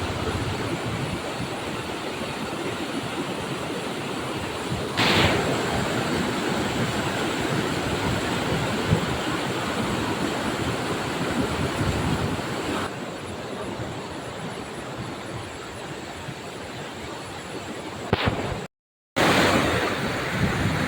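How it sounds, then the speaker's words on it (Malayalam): Punnayar waterfall in Kanjikuzhi, Idukki, Kerala, gives a steady, full roar of falling and rushing water that fills the whole scene, with one brief dropout near the end. "ഇവിടെ നിന്നാണ് വെള്ളം താഴേക്ക് പതിക്കുന്നത്"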